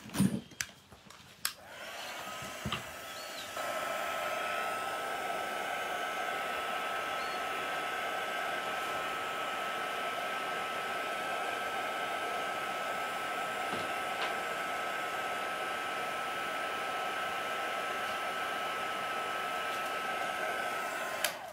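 A hair dryer blows a steady, even whoosh for about twenty seconds, drying watercolour paint on a scrapbook page, with a few faint handling clicks at the start and no talking.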